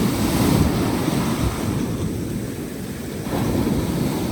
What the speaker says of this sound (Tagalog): Pero ang lakas kaya ng alon